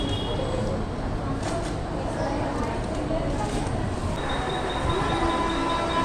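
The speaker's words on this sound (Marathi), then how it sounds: "तर ट्रेन पण पटकन आली तर." A suburban Mumbai local train arrives at a station platform, a steady loud rumble of wheels and carriages filling the whole stretch, with faint voices mixed underneath.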